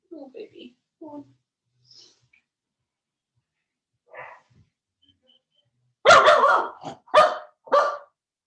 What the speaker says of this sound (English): No, I don't want my toes licked. Go away, dog.